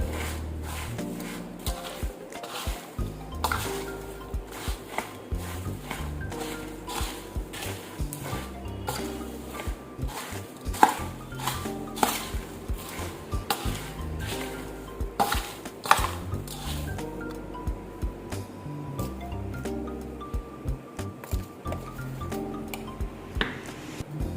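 A spoon stirring hot poha chivda with its spice mix in a pan, with repeated clinks and scrapes against the metal and soft rustling of the flakes, coming in an uneven, busy rhythm close by.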